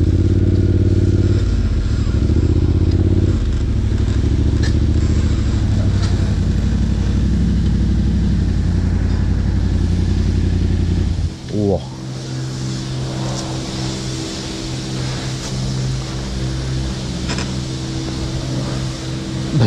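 A Yamaha Raptor quad ATV engine drones loudly and steadily throughout, briefly cutting out near the middle before roaring back with a deep, rough idle and revving.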